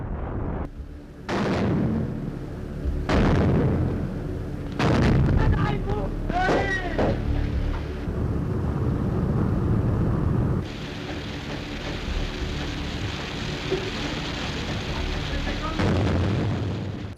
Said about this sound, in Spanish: El sonido familiar del sonar de un buque que se acercaba estaba precedido de la explosión de cargas de profundidad